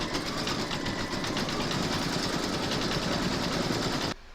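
An embroidery machine stitches a design on a fabric door tag. A steady, fast mechanical whirr with an even rapid pulse runs throughout, close and loud, then cuts off abruptly near the end.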